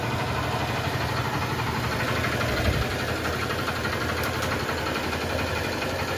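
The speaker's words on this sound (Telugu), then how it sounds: "ఒక్కసారి ఇంజన్ సౌండ్ అవుతుందండి" A Honda Unicorn motorcycle engine idles steadily in a village repair shop after a gear fitting, a dense, continuous low rumble with slight knocking vibration and no talk.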